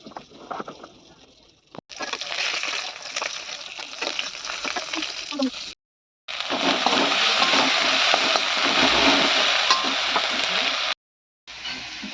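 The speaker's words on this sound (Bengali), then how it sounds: "আর এখানে ফুটছে ঝাল।" A spicy Bhola fish curry (jhal) bubbles in a pan, giving a steady, close hissing sizzle broken by two brief pauses, with voices at the start.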